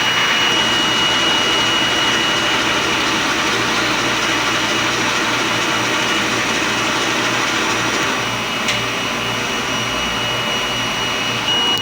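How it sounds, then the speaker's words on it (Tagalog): DTF printer running a print head cleaning cycle, a loud continuous pump-and-motor whir that stays steady and close for the whole stretch, with one brief click near the end. "head clean, press lang natin yung clean."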